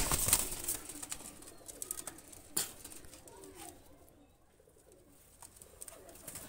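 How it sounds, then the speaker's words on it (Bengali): A pair of Shialkuti pigeons give soft, low coos close by, mixed with a wing flutter and a few scattered knocks, quieting toward the end. "দুইটা কবুতর হলো শিয়ালকুটি কবুতর"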